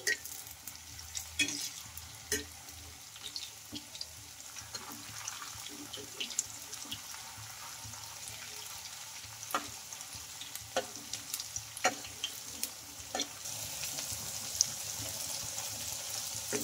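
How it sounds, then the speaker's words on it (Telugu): Bottle gourd punugulu fritters fry in hot oil with a quiet, steady sizzle, broken by intermittent clicks and scrapes as they are turned over, heard close and alone. "ఇంకా అటు ఇటు తిప్పుకుంటూ రెండు వైపులా బాగా కాల్చుకోవాలండి ఈ పునుగులు అయితే."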